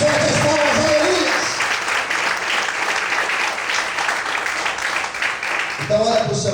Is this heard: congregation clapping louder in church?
yes